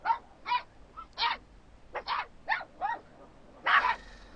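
A small puppy confined in a cage on a dog-meat farm gives a series of about nine short, high yelping whimpers and whines in uneven bursts, close and fairly loud, with no talking.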